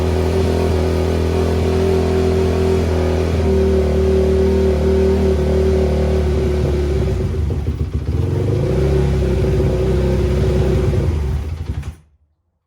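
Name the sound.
motorcycle engine restarted and running with choke on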